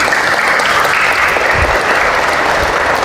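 Steady, loud applause from an audience at a church healing teaching, a dense continuous clatter of many hands that holds at a constant level throughout, with no voices above it.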